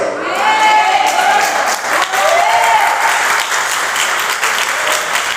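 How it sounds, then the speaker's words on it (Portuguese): Congregation applauding during a church sermon, a loud, dense burst of clapping that swells and holds for several seconds, close and continuous with no talk over it. "Você aplaudiu porque você entendeu isso."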